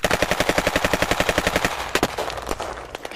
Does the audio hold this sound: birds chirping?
no